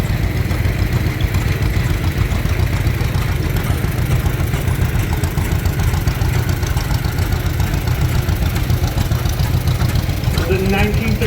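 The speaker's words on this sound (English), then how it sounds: "The 1936 John Deere Unstyled P, owned and restored by Bud Knack, driven by Ron Knack." A 1936 John Deere Unstyled P tractor runs at a parade, its engine a loud, steady low throb with a rapid chugging pulse that lasts throughout, while people talk nearby.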